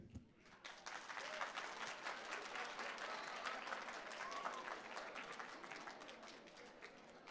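Audience applause at a high school Black History Month poetry event, a dense wash of many hands clapping that swells in after a brief pause and holds steady and loud, with faint voices and a few cheers mixed in.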